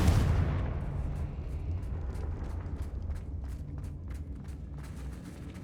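The Confringo fire spell exploding in Hogwarts Legacy: a loud opening boom that decays into a rumbling roar, followed by a run of small crackling ticks as it fades.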